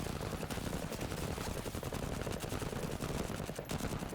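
Dense, continuous automatic gunfire in the video game Menace, a rapid relentless rattle of shots at steady loudness with no pause.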